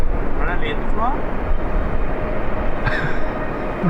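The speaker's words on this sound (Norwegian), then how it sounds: "Det høres ut som en foss." A waterfall on the Hardangervidda plateau roars as a constant, dense wash of broadband rushing water, steady and fairly loud throughout, with a few faint bird chirps and whistles on top.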